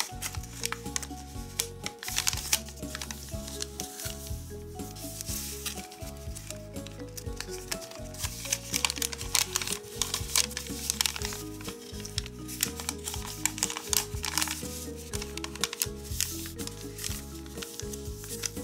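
Paper being folded for an origami pop-up canopy, with soft crinkles, rubs and light rustling close by, quiet and intermittent over background music.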